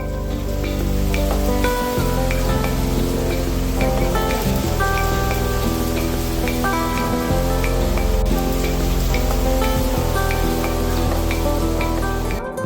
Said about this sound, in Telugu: ఈ వర్షం అన్నట్లకి కూడా డైరెక్ట్ గా వర్షం నీళ్ళే పడుతున్నాయి